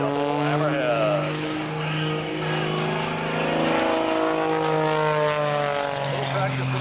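Aerobatic propeller airplane flying a double hammerhead at the 2004 Sussex Airshow, its engine droning loudly and steadily, the pitch wavering as it pivots, while an announcer talks over it.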